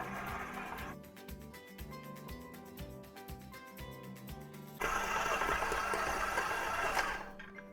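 A stand mixer kneads bun dough in a bowl with a rhythmic, mechanical whir and clicking thumps, shifting to a louder, busier motor hum partway through before cutting off near the end.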